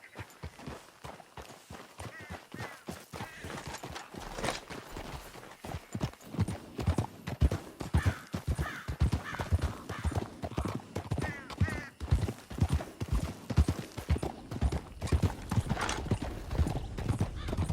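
Several horses gallop in Red Dead Redemption 2, hooves drumming in a fast, rolling rhythm that grows louder and denser, with a brief whinny among the pounding.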